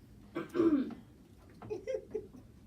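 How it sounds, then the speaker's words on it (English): A single throaty cough or throat-clear up close, followed by a quieter second rasp, otherwise near silence. "I was trying to like not cough."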